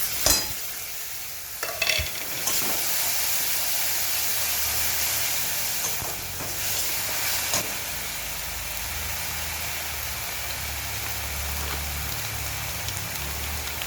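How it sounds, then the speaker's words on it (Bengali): Onion paste, then tomato paste, sautéing in a pan for chicken kofta curry: a steady, dense sizzle close by with a few louder scrapes and stirs near the start, no voices. "পেঁয়াজ বাটাটাকে ভালো করে কষিয়ে নেব। এবার দিয়ে দেব টমেটো বাটা।"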